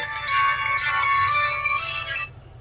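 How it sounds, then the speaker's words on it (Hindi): A mobile phone ringtone plays in an Odia-medium maths class, with bright electronic melodic tones repeating for about two seconds before cutting off. It is close and clear, with no talking. "तोर आपा फोन करंते"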